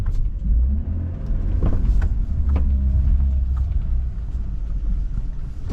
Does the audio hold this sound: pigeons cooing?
no